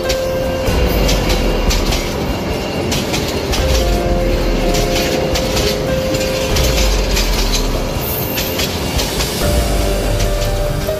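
A cartoon train pulls into Birbhum station, with a loud continuous rumble and rhythmic clatter of wheels over the rails, steady and close for the whole stretch.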